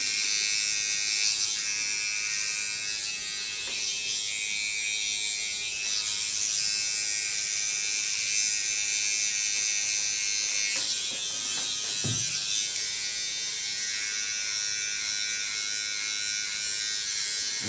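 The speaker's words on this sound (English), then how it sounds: "And just shape it up with the tip of my clipper." Electric hair clipper buzzing steadily up close while its tip shapes and blends a pixie haircut on the top of the head, a continuous bright hum with small shifts as it moves through the hair.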